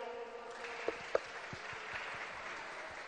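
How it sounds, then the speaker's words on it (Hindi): Audience applause welcoming a senior MLA at a public programme on industrial-area development in Chhattisgarh: a steady wash of clapping from a crowd that runs throughout, with a couple of sharper claps standing out near the middle. "सब लोग ताली मार के स्वागत करना है"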